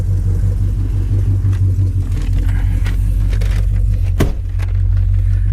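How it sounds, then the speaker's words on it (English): A warmed-up 1979 Camaro Z28 V8 idles close by with a loud, steady, lumpy low rumble. A short sharp knock cuts in near the end. "Sitting at an idle, it's been running here for about 10-12 minutes, so it's nice and warm."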